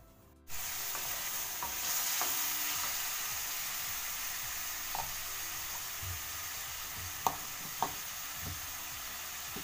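Tomatoes hit hot oil in a pan for karela dal, setting off a sudden burst of sizzling that continues as a steady fry, with a few soft spoon scrapes and clicks.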